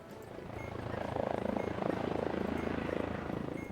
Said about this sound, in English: I want to say it's close to a helicopter.